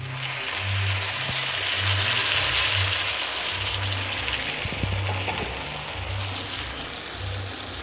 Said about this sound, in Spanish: le vamos a poner el agua